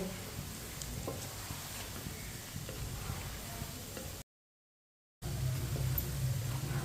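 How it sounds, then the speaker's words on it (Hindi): Aloo palak pakoras sizzle and crackle steadily in hot frying oil as they are flipped and turned, a dense close hiss broken by a short silent gap before resuming louder. "इसी तरह इसे उल्टाते हुए घुमाते फिराते अच्छी तरह ब्राउन कर लेंगे दोनों साइडों से।"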